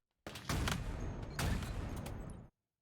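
Bursts of rapid gunfire from a capture-the-flag shooter game ring out for about two seconds, dense loud volleys with sharper peaks, then cut off into silence.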